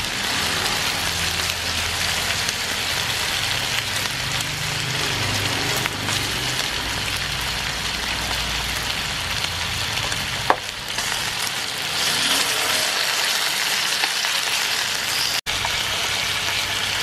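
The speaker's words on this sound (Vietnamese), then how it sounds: "Chiên lại thì nó sẽ vàng lên rất là đẹp." Sticky rice fries in a pan with a steady, dense sizzle that stays close and even throughout, broken by one or two brief clicks.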